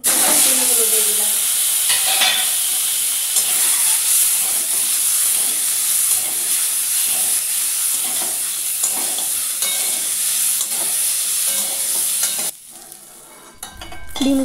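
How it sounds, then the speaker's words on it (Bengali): Eggs frying in mustard oil in a wok, a steady bright sizzle with stirring scrapes throughout, close and loud, briefly dropping quieter near the end. "ডিমগুলো আমার ভালোভাবে ভাজা হয়ে গেছে"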